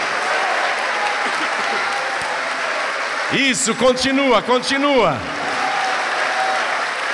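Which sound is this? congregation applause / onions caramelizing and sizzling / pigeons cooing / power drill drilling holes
congregation applause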